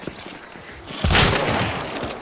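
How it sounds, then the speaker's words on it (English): Shotgun blast in the video game Hunt: Showdown, a single loud boom around the middle of the clip that rings out and decays over a steady ambient game background. "That was a shotgun."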